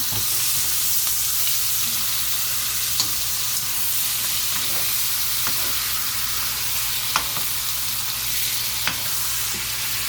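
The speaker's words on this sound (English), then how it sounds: "I'm going to go ahead on and turn the steaks over to brown on the other side." Steaks brown in a hot pan with a continuous close sizzle, broken by a few sharp clicks and taps from turning the meat, and no talking.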